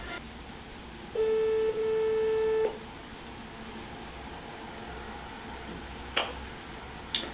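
A telephone call ringing out: a single steady electronic ring tone lasting about a second and a half, then quiet room tone with a couple of faint clicks.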